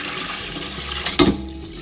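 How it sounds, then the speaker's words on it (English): Water drains from soaked rice for saffron rice, a steady rushing pour that briefly splashes louder, close by and without speech. "we need to drain the water from the rice"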